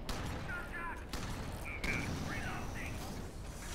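Artillery fire in the Alien Swarm video game comes as a dense barrage with two sharp blasts standing out over a constant crackling din, along with scattered chirps and mechanical clatter, while voices talk faintly underneath.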